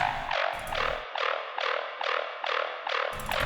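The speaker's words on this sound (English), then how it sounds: "we also introduce from bar 1 immediately like a washed out version of the main bass" A hazy, reverb-soaked synth tone pulses in a steady repeating rhythm, each note swelling and smearing into a wash, with low bass thumps at the start and end.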